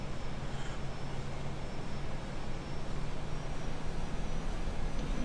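Steady, loud broadband roar of an airliner's engines on the takeoff roll at Las Vegas in a flight simulator, a continuous rushing drone with a low hum, alone without talk.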